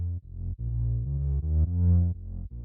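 A synthetic bass line left uncompressed, deep and rounded, playing a series of sustained notes with audible dips between them and a noticeably uneven level.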